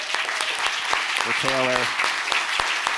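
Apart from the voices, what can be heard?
audience round of applause for Taylor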